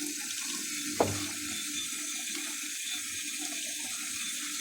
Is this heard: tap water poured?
yes